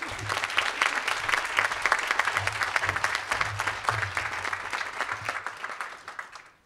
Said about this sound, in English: but we will clap for him anyway